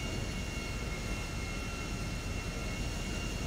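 An airplane taxiing in the video game GTA 5 gives a continuous broadband engine roar and rumble, steady and fairly loud throughout, with a faint high whine and no voices.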